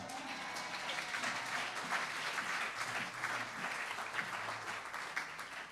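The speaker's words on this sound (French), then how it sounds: "Je pensais que tu allais acclamer pour ça" Applause from a church congregation at a Sunday service, a steady dense clapping spread across the room that holds at an even level throughout, with no speech over it.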